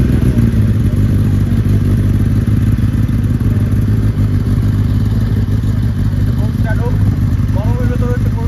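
A Kawasaki Ninja ZX-10R sportbike engine runs close by with a loud, steady low rumble that holds throughout, with faint clatter near the end.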